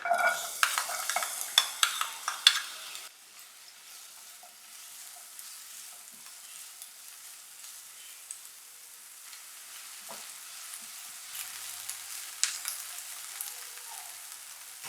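Chopped onion frying in two tablespoons of oil in a pan, with a burst of spoon clatter and stirring at the start, then a soft, steady sizzle with occasional scrapes.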